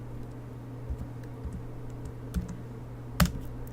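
A few sparse keystrokes clatter on a computer keyboard while entering cell references in an Excel spreadsheet, with irregular soft clicks and one sharper tap near the end over quiet room hum.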